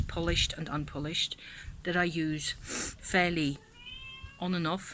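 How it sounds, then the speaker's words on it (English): An old male cat meows in short, thin cries, one drawn-out call standing alone near the middle, between stretches of close talking. "See, that's the cat. That's what he does."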